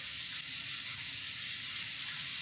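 Vegetables seasoned with salt, garlic and pepper sauté in a pan for a veggie lasagna, giving a steady, close, even sizzle with no voices over it.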